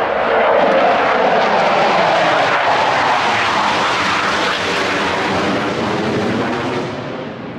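CF-18 fighter jets fly over the Toronto Airshow, a loud, steady engine roar that holds strong for several seconds and then begins to fade slightly at the end.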